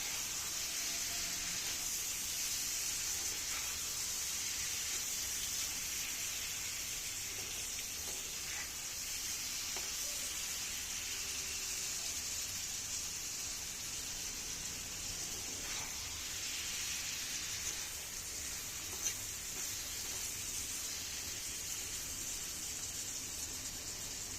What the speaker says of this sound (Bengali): নাড়া দিব যাতে না লেগে যায়